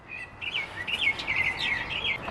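Pet birds kept at home chirp in quick, bright bursts, a fairly faint run of high tweets and short calls over a light background hiss.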